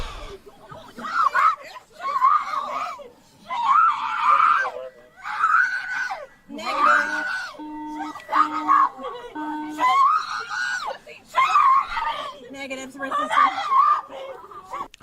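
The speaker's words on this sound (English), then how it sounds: "all they heard is this lady screaming" A woman screams and wails repeatedly in long, anguished bursts, loud and strained, during a police bodycam encounter, with short pauses between cries.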